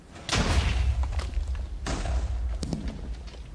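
TNT and fireworks explode in Minecraft, giving two heavy, booming blasts about a second and a half apart, each with a rumbling tail, followed by lighter pops.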